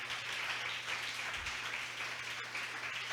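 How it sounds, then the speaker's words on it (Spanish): A church congregation applauds at a Spanish-language service, a soft, steady wash of clapping spread evenly throughout, heard from a distance with a low hum underneath. "Fuerte ese aplauso al Señor"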